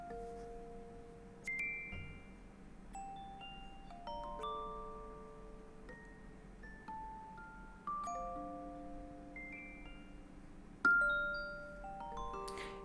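Strummed melody played on a weird, dry Omnisphere synth preset for a trap-style beat, with bright plucked notes sounding in rising runs and sustained tones over a soft low bed, no voices.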